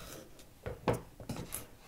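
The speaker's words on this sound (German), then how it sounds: "So, da schneiden wir jetzt die Enden ab." A knife trims the ends off vegetables on a cutting board, giving a few soft, close scraping cuts and light taps at low volume, with no talking.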